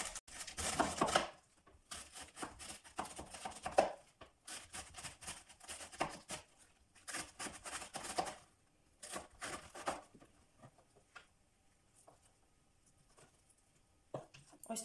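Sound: knife chopping white cabbage

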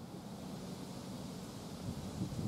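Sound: wind

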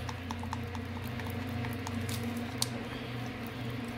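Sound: stirring resin in a cup

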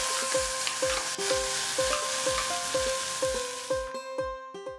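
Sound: chopped tomatoes frying in pan for palak chicken curry

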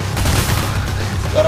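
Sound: gunfire in video game Payday The Heist

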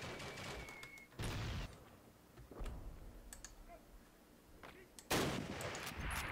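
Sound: gunfire in Call of Duty video game

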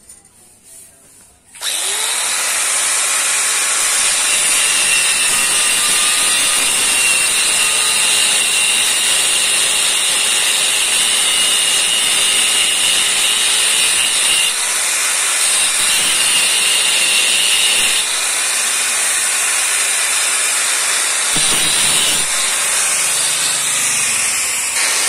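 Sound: power tool cutting steel reinforcing bar

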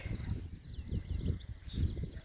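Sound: crickets chirping

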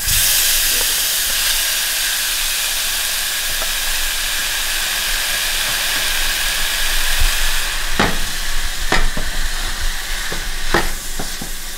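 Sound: ground turkey meat sizzling in a pan

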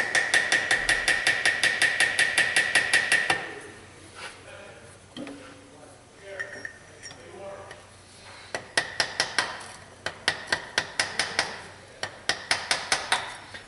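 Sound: small hammer tapping to loosen part

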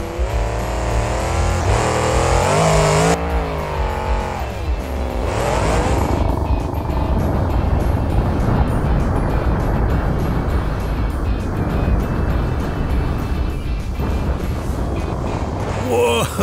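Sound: monster truck jumping and landing on cars

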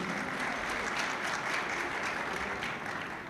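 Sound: applause at a federation event

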